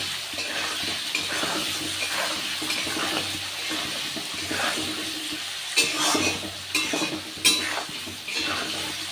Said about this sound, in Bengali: এই আলু ভাজাতে অল্প হলুদ দেবো, অল্প নুন দেবো, দিয়ে আমি আলুটাকে ভাজবো।